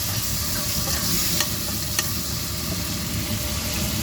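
Tomatoes sauté for a fish curry in a pan, giving a dense, steady sizzle with a few faint clicks of stirring over a constant low hum, without speech.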